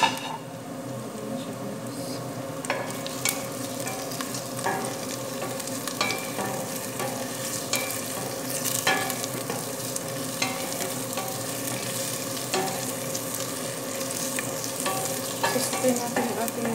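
Onions sizzle steadily in oil in a pan alongside garlic while a utensil stirs and scrapes through them with frequent clinks, a dense continuous frying hiss that stays close and fairly loud throughout.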